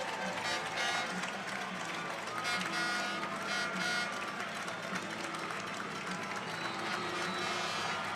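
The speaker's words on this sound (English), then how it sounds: "Just listen to that crowd" Crowd cheering at a high school football game kickoff, a steady roar of many voices in the stands with an announcer talking over it.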